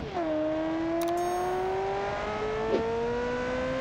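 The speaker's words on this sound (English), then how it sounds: "That classic Formula One style engine sound." A Formula One style race car engine in the BeamNG driving game drops in pitch, then climbs steadily in a high, whining rev that stays loud and close.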